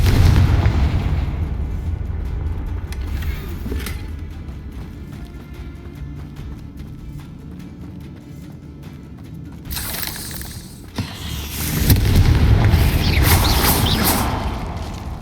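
Booming blasts from the Confringo explosive spell in the Hogwarts Legacy video game: a heavy explosive burst at the start, a quieter rumbling stretch, then another loud, crackling blast swelling near the end.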